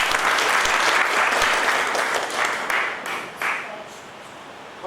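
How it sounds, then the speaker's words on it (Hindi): A seated audience at a motivational talk on the power of the mind gives hearty applause. The dense, steady clapping gradually thins out into a few scattered claps near the end. "एक बार सर के लिए जोरदार तालियां।"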